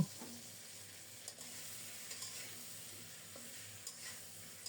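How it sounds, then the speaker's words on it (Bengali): Potatoes frying in a pan for potato dal with prawns, a low steady sizzle broken by occasional soft scrapes and taps of a spatula as they are stirred and cut into pieces. "এভাবে করে নেড়ে চেড়ে অনেকক্ষণ পর্যন্ত আলুগুলোকে ভেজে নেব"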